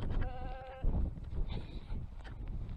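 Sheep bleat around a bothy at Warnscale Head, a wavering call near the start followed by fainter bleats against wind and outdoor rustle. No one speaks.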